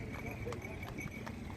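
A horse pulling a carriage clip-clops along a road during an election campaign, its hooves striking in a steady, even rhythm. The sound is moderately close, and a person talks over it throughout.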